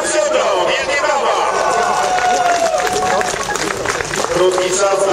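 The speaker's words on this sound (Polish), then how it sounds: "Jan Ziobro, wielkie brawa!" A crowd at a Zakopane ski jumping Continental Cup award ceremony applauds ski jumper Jan Ziobro, with sustained clapping and cheering over lively babble and a few shouted voices, loud and continuous.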